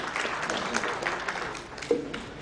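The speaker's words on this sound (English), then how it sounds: "Let's give a big round of applause, ladies and gentlemen." Audience applause at a Smart City Build Bihar 2016 session, a steady mass of clapping from a crowd lasting throughout, moderately loud with no clear pauses.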